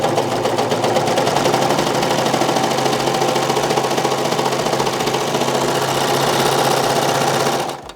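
A Baby Lock serger stitching fabric with a 4-thread overlock stitch runs at a steady, fast, loud mechanical chatter for nearly eight seconds, then stops abruptly at the end.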